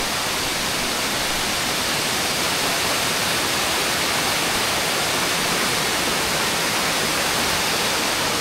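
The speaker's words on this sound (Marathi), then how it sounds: "भाई धबधबा तर एक नंबर आहे भाई." Roaring waterfall on a Konkan route, a dense, steady broadband rush of falling water that holds at full strength throughout with no voices.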